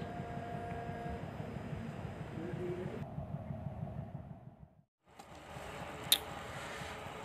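A locomotive creeps slowly along rails buried under thick soil and grass on a test run of a disused sugar-mill line at PG Kedawung, giving a steady low engine rumble with rustling. The rumble briefly drops out, then returns with a short squeal.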